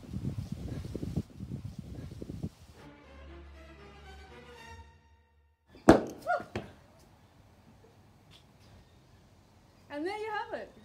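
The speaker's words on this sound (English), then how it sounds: "And there you have it, exploding sandwich bag." A sandwich bag filled with vinegar and baking soda bursts open, giving a sharp close pop near the middle after the bag is shaken, with voices heard before and after.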